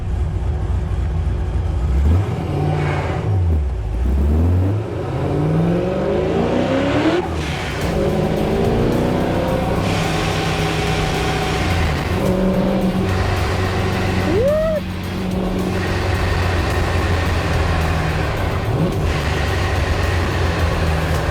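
A Chevrolet C10 truck engine revs and roars repeatedly on a racetrack, rising and falling in pitch as it accelerates, loud and close with constant rumbling throughout.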